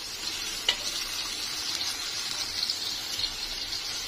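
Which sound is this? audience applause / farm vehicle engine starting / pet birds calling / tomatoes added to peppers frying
tomatoes added to peppers frying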